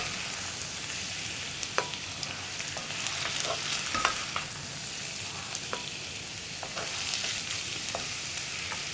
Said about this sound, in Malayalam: ബാക്കിയുള്ള സവോള നന്നായിട്ട് ബ്രൗൺ ആയി വരുന്നത് വരെ നമ്മൾ വഴറ്റിയെടുക്കണം.